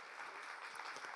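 An audience at a corporate AI-in-finance conference claps in a brief, faint, steady burst of distant applause at the close of the event.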